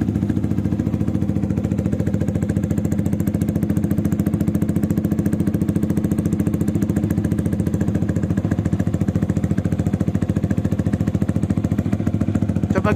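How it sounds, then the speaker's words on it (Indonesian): A motorcycle with an SC Project titanium exhaust idles steadily up close, a low rapid chugging exhaust pulse that holds an even level throughout with no revving. "Ini suara idle."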